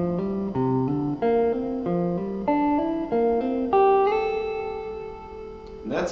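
An electric guitar plays a string-skipping lick in a single clear line of notes that steps upward, with hammer-ons and a closing slide up to A that rings out on a sustained final note.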